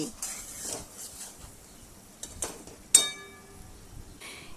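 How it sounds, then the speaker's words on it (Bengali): A spatula clinks and scrapes as fried onion masala is stirred in a pan, with a few quiet sharp metallic knocks and faint sizzling between them. "দেড় মিনিট পর ঢাকা খুলে মশলাটাকে একটু নাড়াচাড়া করে নেব"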